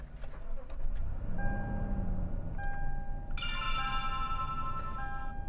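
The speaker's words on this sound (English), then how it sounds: "step on the brakes, start the car." A Lexus GX engine starts and settles into a low idle rumble, with electronic chimes and tones ringing out from the dashboard partway through.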